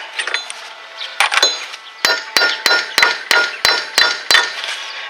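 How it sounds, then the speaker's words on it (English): Metallic hammer taps on an axle nut on a 2000-2008 Ford Focus during front wheel bearing replacement, a close, ringing series of about nine sharp clinks coming at a steady rhythm after a few scattered knocks. "Some guys will put the nut on there, put it on there backwards and tap it a little bit"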